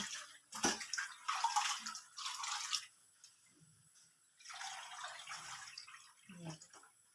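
Water is scooped and poured into a pot in two splashing, gurgling spells with a quiet pause between them, and a faint voice can be heard in the background.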